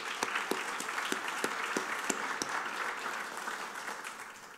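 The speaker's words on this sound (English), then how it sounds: "really needs to give themselves a round of applause" Audience applause at an award ceremony, steady clapping from a crowd with sharp individual claps standing out, sustained and fairly loud throughout with no speech.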